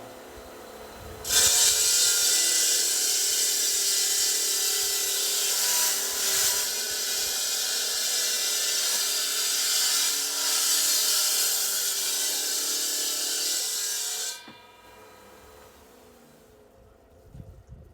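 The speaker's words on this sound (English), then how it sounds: "last pass now, just to get all the burrs off the back of the tile" Burrs are rubbed or filed off the back of a slate tile during patio work, a steady, loud abrasive scraping that runs about thirteen seconds, then stops abruptly, leaving quiet room tone.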